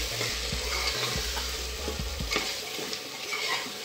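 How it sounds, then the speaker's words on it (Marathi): Spices, chilli and vegetables with kasuri methi sautéing in oil for basmati pulao, a continuous sizzle broken by repeated low scraping and knocking strokes of a spoon stirring the pan, close by with no voices. "हे सर्व जिन्नस आपण परतून घेऊ, तेलामध्ये एकजीव करून घ्यायचे"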